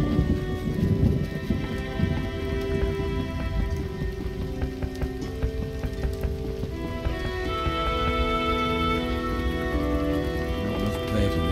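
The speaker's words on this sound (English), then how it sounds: "What a downpour." A heavy rain downpour pours down steadily for the whole stretch, a dense, even hiss with a few tonal sounds ringing underneath.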